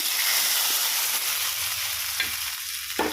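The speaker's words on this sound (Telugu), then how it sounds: "నేను అయితే కొంచెం కరివేపాకు ఎండు మిరపకాయలు రెండు కొంచెం జీలకర్ర ఆవాలు మినప్పప్పు వేసానండి ఇదిగోండి ఇందులో వేసేస్తున్నాం" Curry leaves, two dried chillies, cumin, mustard seeds and urad dal frying in hot oil for a curry, giving a steady bright sizzle with a couple of stirring clinks near the end, close and continuous.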